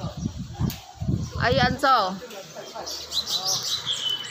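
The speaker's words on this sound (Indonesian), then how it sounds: "Tuh depan aku juga langsung bunyi kukrik kukrik kukrik" Birds chirping outdoors in Taiwan on a morning walk, short rapid tweets and calls near the mic, heard under and between a person talking.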